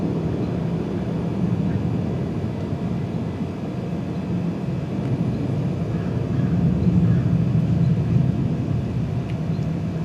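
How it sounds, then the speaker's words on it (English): A jet aircraft passes overhead outdoors, a steady low rumbling roar that swells a little in the middle and lingers at moderate distance for about ten seconds. "jet's going by"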